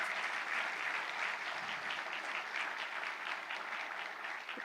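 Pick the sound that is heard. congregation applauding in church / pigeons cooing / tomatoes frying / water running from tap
congregation applauding in church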